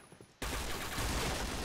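Dense gunfire bursts in the Point Blank online shooter game, opening abruptly after a quiet moment and continuing as a loud, sustained stream of rapid shots.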